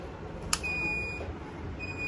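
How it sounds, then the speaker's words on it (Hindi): An inverter beeps after being switched on, a steady high electronic tone that sounds loud and near, breaks briefly, then returns, with a short click just before it starts. "जू ही मैंने ऑन किया जो हमारा इन्वर्टर है उसने बीप शुरू किया"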